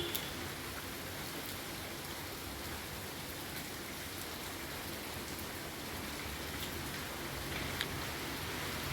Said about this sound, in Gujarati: વરસાદ ચાલો તો ધીરો પડી ગયો